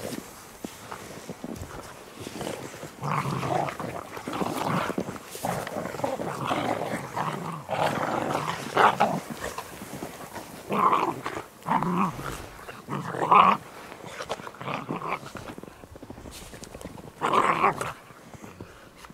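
Puppies playing in deep snow during their first big snowfall, growling, whimpering and scuffling close by in a steady run of rough play, with snow crunching underfoot.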